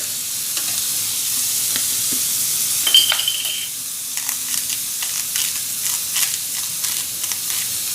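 Food sizzles and spits steadily in a hot pan while preparing a chicken sandwich, with scattered crackling pops and a faint metallic tick or two over the continuous frying hiss.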